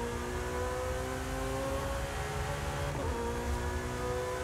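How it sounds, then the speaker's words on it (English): A racing video game car engine drones steadily at high revs, its pitch holding and then shifting briefly, with a continuous mechanical whine. "the engine, I can feel that engine revving up"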